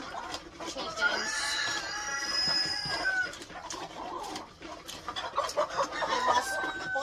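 Farm chickens cluck and murmur steadily around a nesting area, with a rooster-like call rising in the middle, the birds close by over a continuous rustling background.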